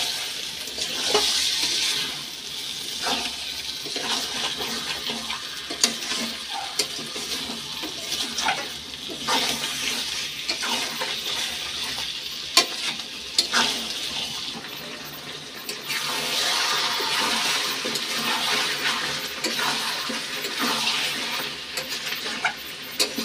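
Meat being fried and stirred in a pan with spiced water added, giving a steady, fairly loud watery hiss and sizzle with occasional scraping strokes running throughout.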